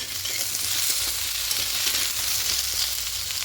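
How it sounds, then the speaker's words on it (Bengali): Bottle gourd and spinach fry in a pan with a continuous, fairly soft sizzling hiss that holds steady throughout. "এতে সবজিগুলো ভাজা হয়ে এসছে"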